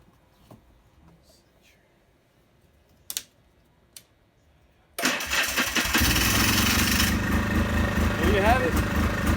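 Motorcycle prepared for dune riding, with a few clicks and clanks before the engine fires up loudly at close range and settles into a steady, rough idle.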